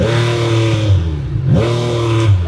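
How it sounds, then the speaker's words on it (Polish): A 2025 Yamaha MT-09 Y-AMT motorcycle engine held at high revs hums steadily, briefly dipping and snapping back as it hits the rev limiter at 4000 rpm, close and loud. "4000 obrotów i odcina"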